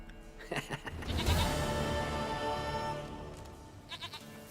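Goat bleats inside The Witcher 3, a few short wavering calls over a steady bed of in-game ambience and music, moderately loud and close.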